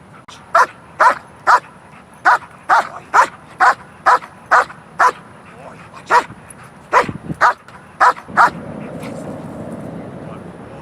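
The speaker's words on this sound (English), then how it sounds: "We taught them how to bark on cue at the ball" Dogs bark on cue at a ball toy during a training session, about fifteen sharp, evenly spaced barks close to the microphone, followed by a brief quieter rustle.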